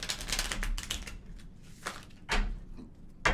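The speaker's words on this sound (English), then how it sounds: "I apologize if this shuffling is loud." A deck of tarot cards is shuffled close to the microphone, giving bursts of crisp riffling and clacking that fade to quieter taps and end in a sharp snap.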